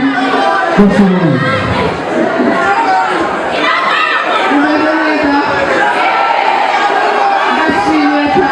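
A lively crowd at a Rwandan comedy show cheers and chatters for a performer named Peter, a loud, steady wash of voices and whoops with someone talking over it.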